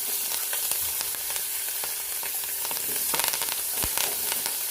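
Carrots, onion, celery, rosemary and thyme sizzle in a hot pan for a lamb pot roast gravy base, a dense continuous crackling hiss with occasional stirring knocks, close and unbroken by speech.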